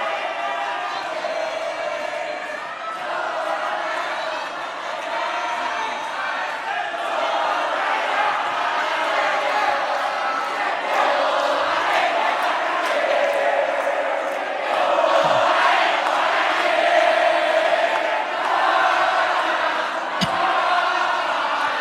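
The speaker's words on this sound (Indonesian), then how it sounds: "Silakan kami berikan kesempatan untuk memberikan apresiasi dan aplaus untuk pasangan" Audience at a televised West Java gubernatorial candidate debate applauding and cheering for a candidate pair, a dense, sustained wash of clapping and shouts lasting throughout and swelling slightly toward the end.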